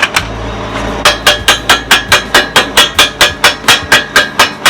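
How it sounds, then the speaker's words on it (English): A chipping hammer strikes slag off a fresh weld on the loader of a Massey 50 tractor, making a steady run of about fifteen sharp metallic knocks at an even rhythm, close and loud, with no talk. "Let's get the chipper."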